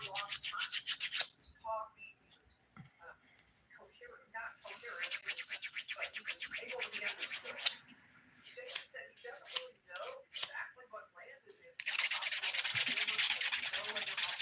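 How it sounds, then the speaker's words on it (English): The coarse 100 grit side of a nail file scrapes over fingernails in fast, close back-and-forth bursts, broken by pauses and ending in a sustained stretch of filing. "These are pretty rough, so I'm using the 100 grit side of my file right now."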